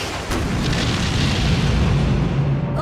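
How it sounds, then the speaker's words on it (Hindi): A huge, sustained explosion roars as a bridge is blown up in a Hollywood action film, a dense, loud, rumbling blast that fills the whole moment with no voices over it. "वो सिर्फ ब्रिज उड़ा रहे हैं।"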